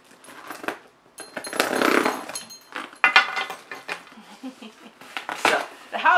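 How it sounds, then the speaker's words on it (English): Someone pries open an aluminum crate box, with scraping, clanking metal and rattling packaging in bursts of handling close by, and a person talks over part of it. "So, open this box because if I don't open it, I'm freaking out, man!"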